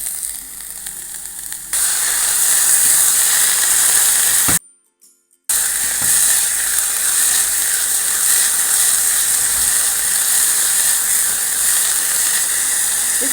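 Beef strips and cabbage steam and sizzle in a pan, a loud, constant hiss that swells after a quieter opening and cuts out abruptly for about a second before resuming.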